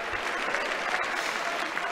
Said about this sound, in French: les députés En Marche l'applaudissent bruyamment